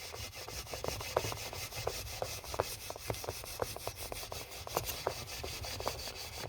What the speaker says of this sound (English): I've got some real coarse steel wool.